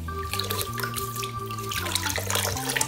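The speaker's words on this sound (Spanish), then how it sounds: "enjuagarlo un poquito" Aquarium water runs steadily over a Sera aquarium filter part being rinsed, a continuous close splashing and trickling with no talk, while a steady low hum from the aquarium equipment sits underneath.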